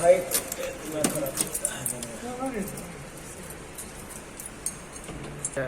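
Keys jangle near a fire alarm control panel, a few light metallic clinks in short bursts during the first seconds, then fading to quiet room tone; a voice speaks faintly in the background.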